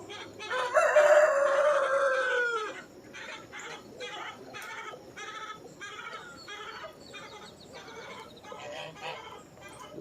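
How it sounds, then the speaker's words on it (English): A chicken crows and clucks loudly at first, then keeps up agitated calls at a distance beneath ongoing outdoor background noise. "There's a chicken somewhere going crazy."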